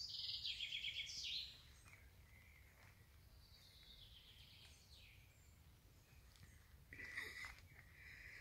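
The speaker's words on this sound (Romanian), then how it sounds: "Se aud doar niște muște și păsărelele." Small birds chirp faintly in quiet open air, with a soft low buzz beneath.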